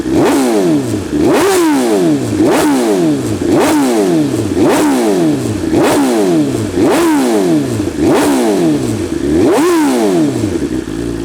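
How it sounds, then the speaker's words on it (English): BMW S1000RR sport motorcycle engine, warm, revved repeatedly at close range: about ten sharp rising blips, each falling back to idle, in a steady loud rhythm with no talk. "We're going to give it some revs."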